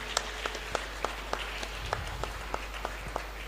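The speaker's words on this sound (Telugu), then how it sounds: "ఆ 2 గురువులను అభినందిస్తూ మనమందరం గట్టిగా చప్పట్లు కొడదాం" A church congregation at a novena mass claps for two priests. The claps are faint and fairly regular, spaced about a third of a second apart, over a low steady hum.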